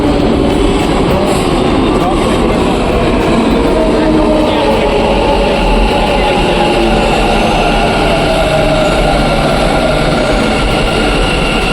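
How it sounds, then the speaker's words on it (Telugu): A Bengaluru metro train pulls into a station, giving a loud, steady rumble and whine from the rolling cars that fills the scene with constant, close mechanical noise. "మెట్రో రావడం అయితే జరిగింది"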